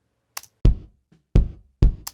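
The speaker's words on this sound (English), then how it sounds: "Then I'm EQing the inside bass drum this way." An inside bass drum microphone with flat EQ picks up three close, deep thuds. Fainter, sharp clicks sit between and after them.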